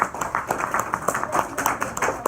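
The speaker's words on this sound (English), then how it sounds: "Give them a round of applause." Audience at a school enrichment-projects presentation claps for a group of girl presenters, a brief burst of fairly loud, irregular hand claps with some mixed voices underneath.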